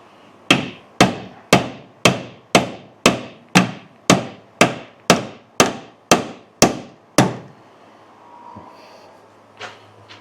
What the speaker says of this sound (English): I will beat on both of these forks to try to get them to kind of, release on us and slide down